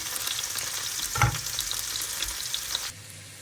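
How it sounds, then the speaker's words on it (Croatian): Boiled potatoes with garlic fry in a pan over the highest heat, a steady broadband sizzle with a brief stirring clatter near the start, continuing close and fairly loud before dropping off near the end. "Ja sam zagrela na najjačoj vatri i sada ćemo ih propržiti."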